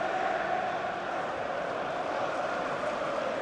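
Stadium crowd at a Chelsea v Newcastle League Cup match, a steady dense roar of restless, agitated voices filling the space without distinct peaks.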